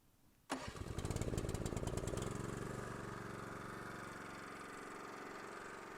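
A 2002 Leeboy L150 tack distributor's engine fires up on its electric start after a brief quiet moment, catching abruptly and then settling into a steady, close, even-running drone that continues to the end.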